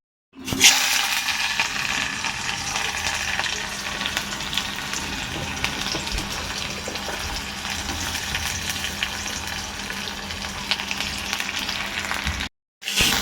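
Onion hissing in hot oil in a pan, a dense, steady sizzle that holds at an even loudness for about twelve seconds before cutting off abruptly, close and uninterrupted.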